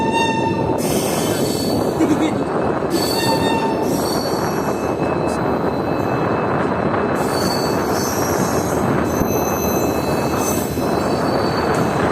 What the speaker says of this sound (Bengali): রামপুর জংশনের দু নম্বর প্ল্যাটফর্ম থেকে বেরিয়ে যাচ্ছে আমাদের ট্রেন